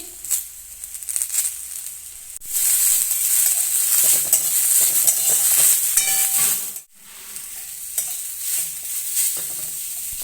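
Chikni greens are tipped into a pan over onions fried with dried red chili, and the sizzle surges loudly and holds, with stirring scrapes, then suddenly drops and picks up again; no one talks.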